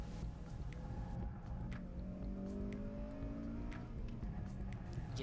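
Car engine strains under load during an autocross run while tires begin to understeer, a steady close-up drone with rising harmonic tones and faint scrubbing across the whole stretch.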